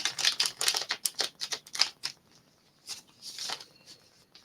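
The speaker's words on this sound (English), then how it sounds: "I'm gonna pull this card. It's my last shuffle for the tarot." Tarot cards shuffled by hand in a quiet room, a quick run of crisp riffling snaps over about two seconds, then a pause and a softer brief burst of card rustling.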